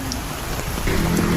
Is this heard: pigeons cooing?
no